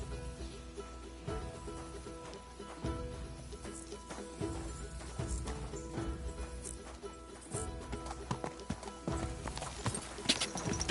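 A horse gallops in Kingdom Come Deliverance 2, with steady rhythmic hoofbeats throughout, an occasional neigh, and faint game effects that build toward a louder crash at the end.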